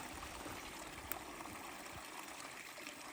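Quiet, steady trickle and babble of a small creek, close by, with a faint tap near the middle and no talking.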